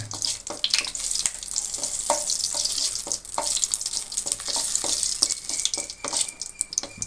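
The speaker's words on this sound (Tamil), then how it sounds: "இப்போ வானலில் நம்ம வந்து ஒரு இரண்டு கரண்டி கடலெண்ணெய் ஊற்றிக்கலாம் ஒரு ரெண்டு இலை பிரிஞ்சு இலையை போட்டுக்கிறோம்" Bay leaves and marathi moggu frying in hot groundnut oil for chana masala gravy. A steady close sizzle and crackle runs throughout, with a spoon stirring and scraping the pan at intervals.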